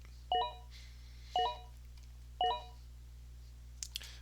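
Three short electronic alert tones from a fantasy football draft app, each a quick two-note chime, arrive about a second apart over a steady low hum, followed by a couple of faint clicks.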